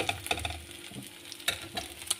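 Cutlets sizzle in a pan of oil, a faint crackling frying hiss broken by scattered clinks and taps of a utensil stirring.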